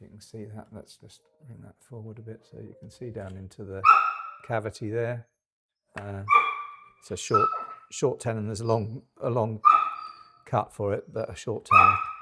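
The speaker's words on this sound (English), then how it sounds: "Excuse my dog. I'll just go and let her out" A dog barks indoors in repeated sharp, fairly loud yips mixed in with someone talking steadily nearby in a workshop.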